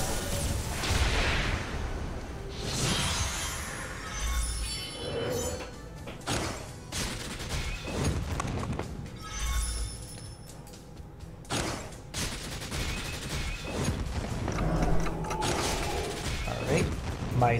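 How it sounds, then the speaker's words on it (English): Arcane Blast skill effect in the mobile strategy game Langrisser M, a dense run of clanking mechanical bursts and booming magical impacts that rise and fall over about eighteen seconds, with game music layered underneath. "I might as well just trigger the Arcane Blast"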